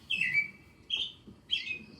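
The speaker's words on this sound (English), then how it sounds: "They're thrushes." A thrush, grouped with the American robin, sings three short clear phrases with pauses between them, fairly near, over a faint low background hum.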